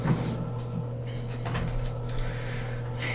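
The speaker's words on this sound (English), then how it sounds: "the buzzing you're hearing in the background is just a garage door opening" A garage door opening somewhere in the background gives off a steady, low electrical buzz that holds evenly throughout, with no talking over it.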